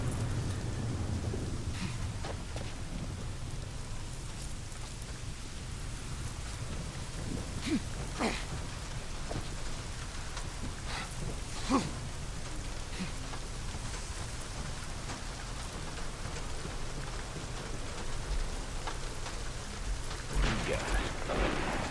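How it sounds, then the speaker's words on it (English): Steady rain pours throughout a Days Gone outdoor scene, with low thunder rumbling in the background and a few brief louder crackles and strikes over the constant hiss. "that thunder? I don't know. I'll have to be outside. Oh, it's right from game."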